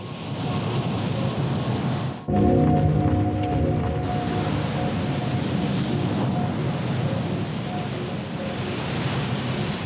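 Powerful ocean waves crash and roar in a thick, continuous wash of surf, swelling sharply after a brief dip, loud and close with wind rushing through it.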